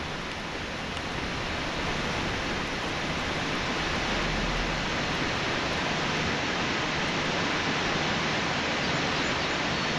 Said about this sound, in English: Damn, a waterfall in the sky.